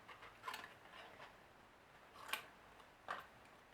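Scissors make a few faint, separate snips through stamped white cardstock, close by with quiet gaps between cuts and no talking.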